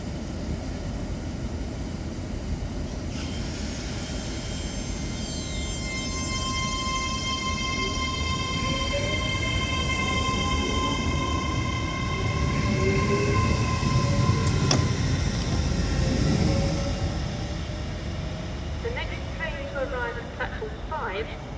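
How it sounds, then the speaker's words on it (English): A doubled-up Avanti West Coast Class 805 pulls away from Wigan North Western station, its engine and traction whine building steadily with rising tones and rumbling wheels, loud and close for about twenty seconds with a faint voice in the background. "when this doubled up Avanti West Coast Class 805 departs Wigan North Western"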